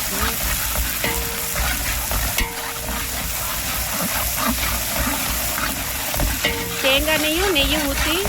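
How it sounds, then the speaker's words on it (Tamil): Finely chopped small onions fry in coconut oil and ghee as a tempering for samba wheat rava kichadi. A continuous close sizzle runs throughout, broken by stirring scrapes and a few faint tonal squeaks. "தேங்காய் எண்ணெயும் நெய்யும் ஊற்றி பொடிசா நறுக்கின சின்ன வெங்காயம்"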